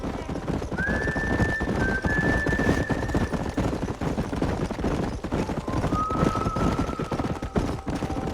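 Wild horses in the Red Dead Redemption video game whinny twice, with long neighs over steady galloping hoofbeats and background game noise.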